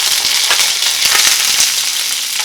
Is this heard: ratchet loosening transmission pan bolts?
no